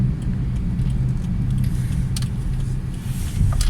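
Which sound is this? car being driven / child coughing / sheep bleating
car being driven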